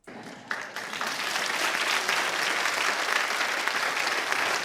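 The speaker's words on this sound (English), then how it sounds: "I love how the audience claps" A Dr. Phil studio audience breaks into sustained applause, starting with a few claps and quickly swelling to a loud, dense, steady clapping that fills the room and holds for several seconds.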